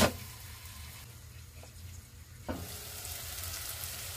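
Tomatoes for a menudo sizzle while cooking in a pan, a constant close frying hiss with a couple of brief stirring clatters.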